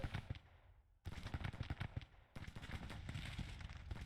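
Rapid, overlapping rifle and musket fire crackles in a steady din on a Civil War battlefield in Grand Tactician: The Civil War, with a brief lull before the shooting swells again.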